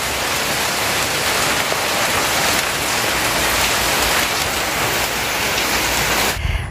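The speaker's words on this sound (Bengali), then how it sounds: "এই দেখো কি বৃষ্টি আসছে।" Heavy rain pours outside a hut, a loud, dense and steady wash of drops on surfaces with no break, close and enveloping throughout.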